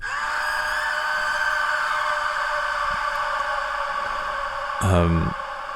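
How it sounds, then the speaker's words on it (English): Sustained orchestral drone with layered harmonic tones, joined near the end by a brief, loud, reverberant scream-like effect that sweeps downward. "I put in these sort of like scream effects"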